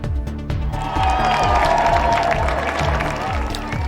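A crowd applauds and cheers steadily outside Buckingham Palace as the King arrives, a dense continuous wash of clapping with rhythmic low thumps underneath.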